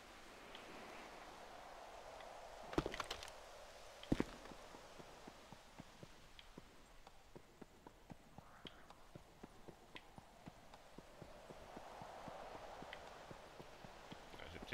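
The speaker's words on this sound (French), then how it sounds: "J'entends courir." Running footsteps in the zombie survival game RottenV, a steady run of light, quick, fairly faint thuds across an outdoor town scene, with a couple of sharper knocks early on.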